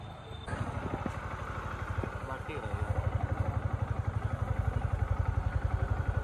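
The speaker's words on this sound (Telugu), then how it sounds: "లాస్ట్ బండి అయితే స్టార్ట్ అయిపోయింది." A Yamaha R15 motorcycle, restarted after two months parked with a suspected battery problem, catches and settles into a fast even idle, close and steady with a rapid regular exhaust pulse.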